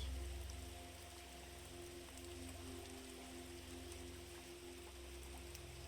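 Rain falls as a faint, even hiss with soft patter, steady and uninterrupted, with no voices over it.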